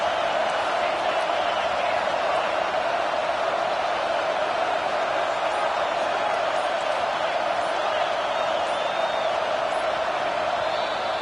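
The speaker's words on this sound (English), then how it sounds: "Decibels rising as the crowd gets behind this defense on third down." Football stadium crowd roaring in support of the Georgia defense on third down against Texas A&M, a dense, continuous wash of distant cheering that stays loud and steady throughout.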